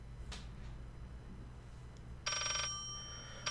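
An old telephone rings inside the video game Layers of Fear, a single bright electronic ring bursting in after quiet ambience, fairly close and loud, alone without talk.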